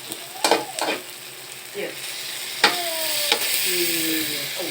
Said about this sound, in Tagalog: Sasabay naman natin tong bawang at sibuyas.